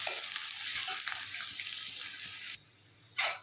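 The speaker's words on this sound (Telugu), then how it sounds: "ఇందులో వచ్చేసి ఒక ఉల్లిపాయ ఇది బాగా ఎర్రగా కావాలి" Onion sizzles in hot oil in a pan, a bright frying hiss with a few crackling bursts, close and unaccompanied by talk.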